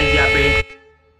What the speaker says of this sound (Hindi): यहाँ से ऑन दे देते हैं हम लॉन्ग हॉर्न। बहुत बढ़िया लॉन्ग हॉर्न गाइस यहाँ पे